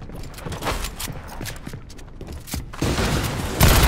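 Gunfire in a video game, rapid bursts of sharp shots in quick clusters, followed by a louder, denser stretch of blasts near the end.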